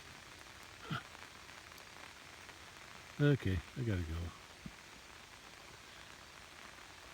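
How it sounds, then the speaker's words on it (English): Light rain falls steadily on a rural pasture, a soft continuous patter beneath a brief burst of nearby speech in the middle. "A little bit of rain."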